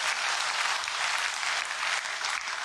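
Sustained applause from a large crowd at a poetry recital, dense and steady clapping throughout with no talking.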